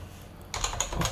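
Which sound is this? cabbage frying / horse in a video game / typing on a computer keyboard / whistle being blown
typing on a computer keyboard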